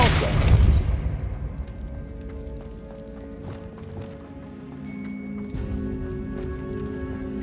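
Depulso spell cast in Hogwarts Legacy, a sharp forceful burst right at the start that fades into ringing magical tones and lighter thuds beneath a sustained background hum.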